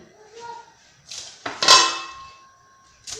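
A metal lid clatters onto a shawarma grill pan, a bright ringing clank with resonant tones that linger, preceded by softer handling scrapes and followed by a lighter tap near the end.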